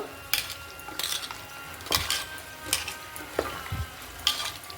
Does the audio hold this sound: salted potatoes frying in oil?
yes